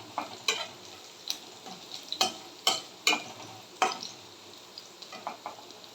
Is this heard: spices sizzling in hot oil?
yes